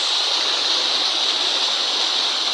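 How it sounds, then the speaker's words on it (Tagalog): River water pouring down in a steady, loud, rushing torrent, a continuous close hiss of falling water with no pauses or voices. "yun naman yung buhos ng tubig"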